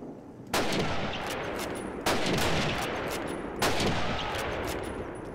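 Gunfire in Call of Duty, heard as three loud, evenly spaced rifle shots while sniping, each followed by a long rumbling echo with no talking.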